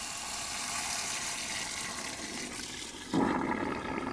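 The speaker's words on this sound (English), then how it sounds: "We'll go ahead and let that drain until all of the water has come out of the line." Water draining out of an opened manual valve on a sprinkler system line while it is winterized: a steady broadband rush of flowing water, close and continuous, growing louder and brighter for the final second.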